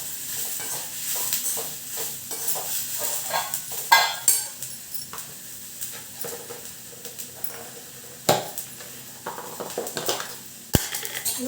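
A utensil stirs food in a hot pan after jaggery is added, scraping and sizzling steadily and close by, with a few louder knocks against the pan and no talking.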